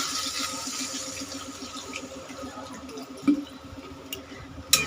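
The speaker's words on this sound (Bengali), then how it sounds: "এবার আমি দিয়ে দেবো পরিমাণ মতন জল" Water poured into a pot of potato curry with chhana (paneer) in a Bengali home kitchen, a steady moderate pouring and splashing with a couple of brief clinks, no talking.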